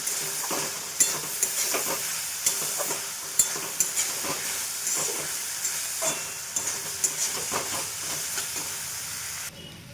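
Potatoes and banana flower fry in a pan while being stirred, a continuous close sizzle punctuated by sharp, irregular spatula scrapes and clinks until the sound cuts off near the end.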